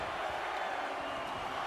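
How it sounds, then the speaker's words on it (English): A loud, dense arena crowd roars continuously during a WWE 2K25 wrestling match, a constant wash of cheering with no clear breaks in the brief stretch. "And this crowd's a little loud."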